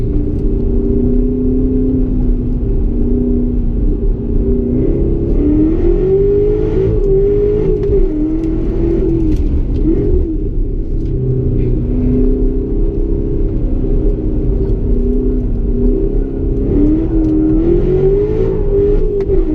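A 627-hp Callaway Corvette on a slow figure-eight handling course gives a loud, continuous engine drone that rises and falls as the throttle works, with no voices over it.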